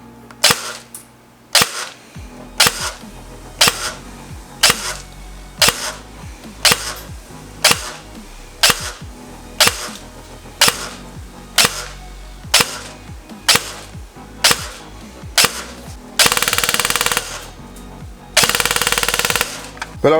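A G&G ARP566 3.0 airsoft electric gun fires during a chronograph and shooting test: loud, close single shots about a second apart, then two short full-auto bursts, with no talking.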